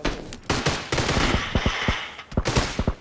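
Bursts of gunfire in PUBG, a mix of sharp single shots and rapid volleys that come in clustered groups, loud and close, with no talk over them.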